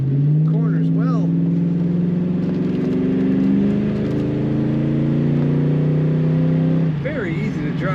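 A 1996 Ford Mustang GT convertible with an automatic transmission drives along, its V8 engine giving a steady low hum that rises and falls through gentle shifts, with a voice talking over it at the start and end.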